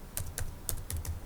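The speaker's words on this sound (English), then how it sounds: "today I'm learning how to use Word to type documents" Close, light keystrokes on a computer keyboard while typing a document in Microsoft Word, about five quick clicks in an uneven rhythm with no voices.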